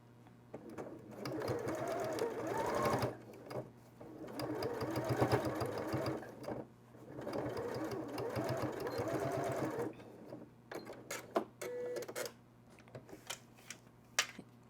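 A sewing machine stitching bias binding on a waterproof slipper organizer runs in three steady bursts of rapid needle rattle separated by brief pauses, then gives a few faint clicks and taps.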